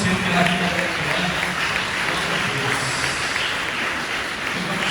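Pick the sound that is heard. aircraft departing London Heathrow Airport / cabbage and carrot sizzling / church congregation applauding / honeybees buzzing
church congregation applauding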